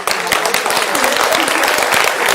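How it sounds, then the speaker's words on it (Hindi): Loud, dense applause from an audience at a Madhya Pradesh election debate, continuous rapid clapping filling the whole stretch. "जोरदार तालियां"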